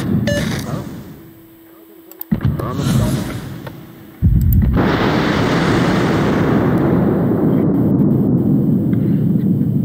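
Naval gunfire and explosions in the World of Warships video game: quieter rumbling first, then a sharp blast followed by a loud, sustained roaring barrage that fills the rest of the clip.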